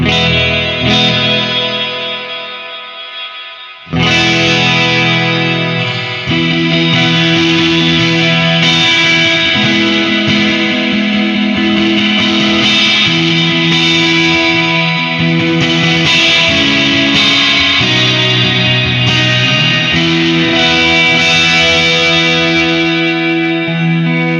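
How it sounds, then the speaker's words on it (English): Distorted electric guitar played through a Boss RV-5 digital reverb pedal in hall mode, sustained chords ringing out with a long, spacious tail and loud, continuous playing. "we have hall, which is a more traditional reverb voice as well"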